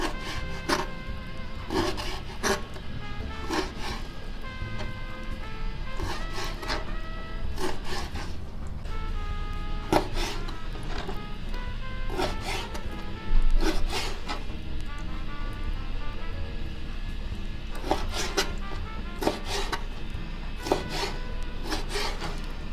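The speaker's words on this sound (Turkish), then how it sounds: "taşlıkları doğrayarak başlıyoruz" Steady rhythmic chopping of chicken gizzards on a board, a knife striking repeatedly in quick bursts with brief pauses, close and fairly loud.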